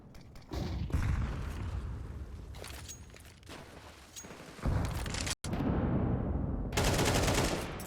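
Grenade blasts and rattling gunfire bursts from a competitive Counter-Strike match on the Anubis map in an ESL Challenger League game, loud and choppy with brief near-silent gaps between volleys.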